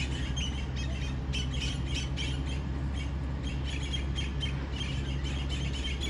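Birds squawk and chirp in repeated bursts ahead of a storm in Gambia, over a steady low rumble of wind or background noise, with no voices.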